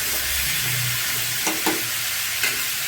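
Turnip, cauliflower and spinach frying in a pan with a constant hiss of sizzling oil, broken by a few scraping strokes of a spoon stirring the vegetables.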